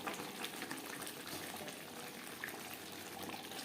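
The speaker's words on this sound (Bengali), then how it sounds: "আমি এখানে মশলা ধোয়া জলই অ্যাড করলাম।" Spice-rinsing water poured into a pot of chicken and potato curry sets off a faint, continuous hissing rush that bubbles steadily throughout.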